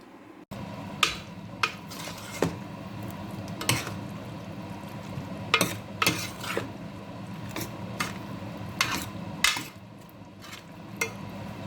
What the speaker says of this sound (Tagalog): Tama, konting fry lang yung ating spice at dumikit sa patatas.